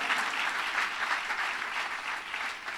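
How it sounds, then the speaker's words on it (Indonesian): Congregation applauding in a church service, a continuous even wash of many hands clapping at moderate distance, steady throughout with no voices over it. "Bisa kasih tepuk tangan yang meriah buat Tuhan kita?"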